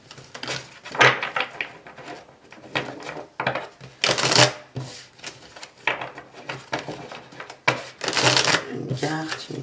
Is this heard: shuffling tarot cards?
yes